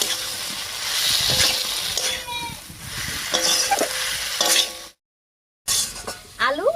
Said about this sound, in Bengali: এবারে মশলার সঙ্গে খুব ভালো করে কষিয়ে নেবো আলু আর সয়াবিন